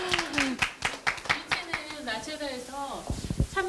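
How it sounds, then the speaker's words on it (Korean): A small indoor audience at a lecture claps in quick, uneven bursts while people talk and laugh over the applause. "박수."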